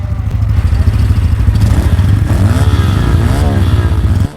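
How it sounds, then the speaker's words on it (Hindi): A Bajaj Pulsar N160 motorcycle exhaust chugs at a steady, loud idle close by, then climbs through a couple of revs before it settles back down. "आप सुनते हैं N 160 का एग्जॉस्ट साउंड ऑन करने के बाद आइडल में कैसा होता है, उसके बाद रैप करके सुनते हैं।"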